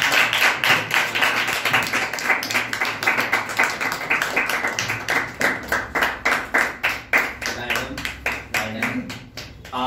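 An audience at a storytelling competition claps, with sharp hand claps in a fast, uneven rhythm. The applause is loud and close and goes on for about ten seconds, then thins out, with a voice talking faintly underneath.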